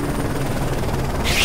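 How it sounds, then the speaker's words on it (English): An enemy helicopter closes in during a Call of Duty: Modern Warfare 3 battle, giving a steady, dense rotor drone that swells slightly near the end. "Enemy chopper closing on your position."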